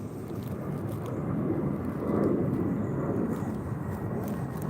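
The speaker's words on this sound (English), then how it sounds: "Hey, look, it's an airplane." A propeller-less airplane passes overhead outdoors during a shark-tooth hunt, a faint low rumble that swells to a peak midway and then eases off.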